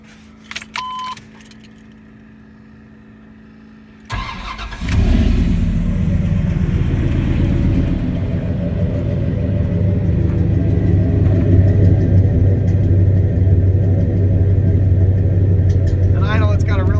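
A 1989 GMC V3500 truck engine cranks and catches after a few quiet seconds and keys jangling, then settles into a steady, loud, low rumbling idle that holds to the end.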